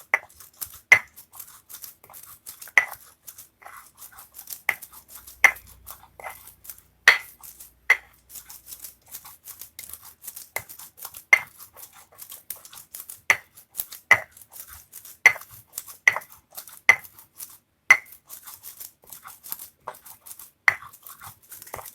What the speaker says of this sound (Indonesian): Ini kita giling manual tanpa blender.